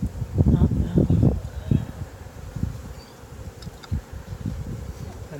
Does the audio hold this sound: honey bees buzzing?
yes